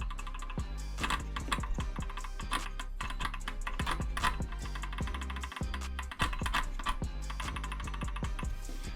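Rapid, irregular metallic clicking and tapping close up as gear teeth in an RC car differential knock against each other, with no voices.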